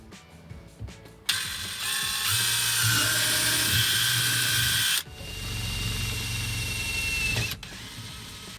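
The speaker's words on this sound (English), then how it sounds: "let's go ahead and drill that hole for the saddle drain" A power drill bores a hole into a sink drain pipe to fit a saddle drain for a beverage faucet install, two loud, close, sustained whirring bursts with a short pause between them.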